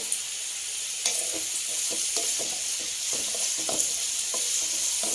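Vegetable pieces frying in a pan for mushroom fried rice, a steady close sizzle with repeated scraping stir strokes spaced through it, no talking.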